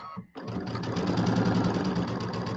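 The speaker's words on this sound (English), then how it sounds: "I got to turn my machine up. It's not going fast enough. I like to sew fast." After a short pause, a sewing machine turned up to a high speed runs fast and steady on a quarter-inch seam for a pillow, a close, continuous rattling whir.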